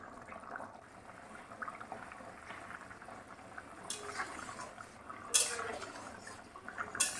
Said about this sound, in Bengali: ঝোলটা যখন এরকম ফুটতে শুরু করবে দিয়ে দেবো বেশ খানিকটা লবণ